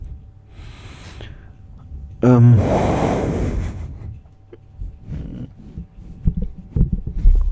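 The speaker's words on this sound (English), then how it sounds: "sorry for the breathing noises down the microphone" Breathing close into a microphone: a sharp gasping inhale followed by a long heavy exhale, then softer uneven breaths and small mouth noises, near and fairly loud with no talking.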